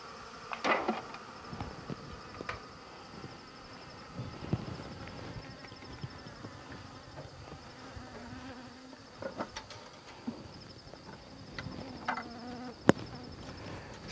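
Bees buzz around an opened top bar hive during a hive transfer with a catcher box, a continuous close drone with occasional sharper passes and light knocks.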